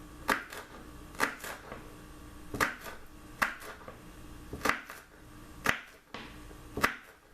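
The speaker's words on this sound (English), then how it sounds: "Slice the celery down the middle. Then chop it this way." A knife chops celery on a cutting board in nine crisp, evenly spaced cuts, each a sharp close tap about once per second against quiet kitchen background.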